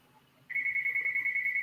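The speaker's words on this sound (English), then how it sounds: "there's a phone going off behind me" A phone starts ringing behind someone partway through, a steady electronic tone pulsing in an even trill that stays at moderate volume in an otherwise quiet room.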